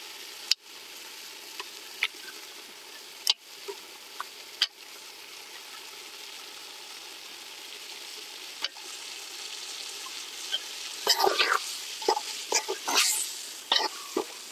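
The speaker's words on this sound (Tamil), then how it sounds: "காடையை அப்படியே போட்டுக்கலாம்." Quail pieces frying steadily in a pan of gravy in an outdoor village kitchen, a continuous close sizzle with occasional sharp clacks and stirring scrapes that grow busier near the end.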